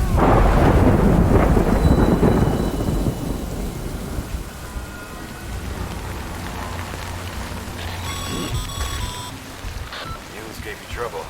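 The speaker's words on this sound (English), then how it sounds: "Good thing it was raining." Rain and thunder in the video game Death Stranding: heavy rumbling thunder opens and then fades into steady rainfall on surfaces, with some faint tonal game sounds later.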